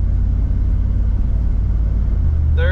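A Chevrolet Silverado with a 4L60 automatic transmission, engine rumbling steadily at low pitch from inside the cab as it shifts through gears, loud and continuous with a rising whine near the end.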